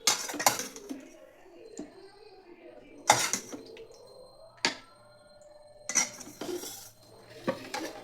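Roti and shukto being served from dishes onto a plate, with sharp clinks and scrapes of serving spoons against metal and ceramic at intervals, with quiet pauses between, close by and moderately loud.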